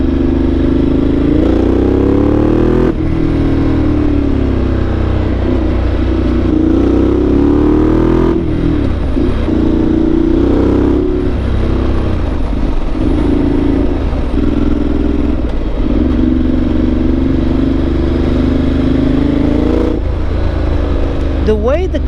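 A Ducati motorcycle engine runs steadily while riding, loud and close with rising and falling revs over constant wind rumble, a rider talking throughout.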